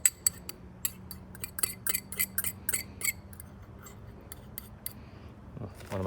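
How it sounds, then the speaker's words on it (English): Chicken being tossed with oil and basil pesto in a bowl, giving a run of quick, light clinks and scrapes of a utensil against the bowl, close and fairly soft, fading to quiet near the end. "we're going to mix it up to make sure we coat it real well"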